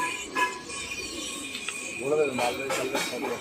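Tournament racing pigeons coo softly as more birds are put into a cage for sale, with a few low rolling calls near the end over a steady background hiss and faint chirps.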